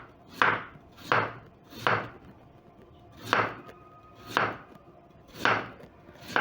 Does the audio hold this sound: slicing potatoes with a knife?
yes